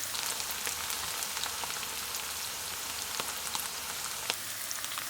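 Oyster mushrooms fry in a pan with a steady, soft crackling sizzle and scattered small pops, continuous and moderately quiet, with no voices.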